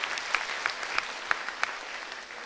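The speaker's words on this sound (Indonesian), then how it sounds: "Tepuk tangan dulu Hotel Papandayan." Audience applause at a stand-up comedy show in a hotel ballroom in Bandung: steady, dense clapping with scattered sharper claps, moderately distant, continuous for a few seconds with no talking.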